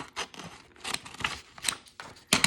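Scissors snip through folded paper in a quick run of crisp, close cuts, several short bursts with brief pauses between them, heard alone without talk.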